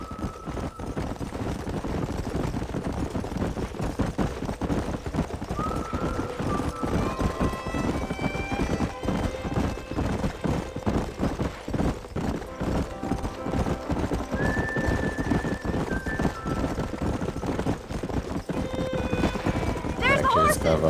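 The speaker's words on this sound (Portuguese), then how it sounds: "There's the horses!" In Red Dead Redemption, a herd of horses gallops past with a dense, continuous drumming of hooves, and scattered whinnies and neighs ring out near and far over the running.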